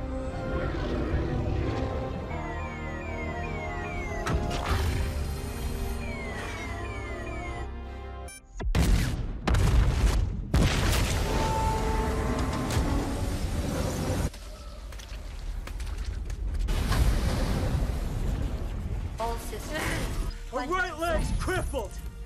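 Explosion in an action sci-fi movie: a sudden loud blast and crashing, shattering debris cut into a dense mix of effects and score, with voices heard amid the din.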